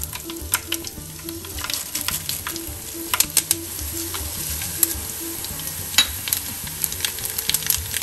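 Coriander seeds and fennel seeds frying in very hot oil, a bright steady sizzle peppered with sharp pops and crackles of seeds, close and continuous, with faint stirring.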